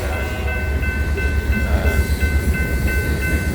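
A BNSF freight train rolls past close by, a steady loud rumble of wagons with a sustained high tonal ring from the wheels or crossing signals running throughout, with no talking.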